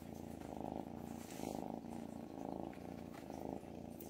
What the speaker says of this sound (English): everyone wants to hear your purrs.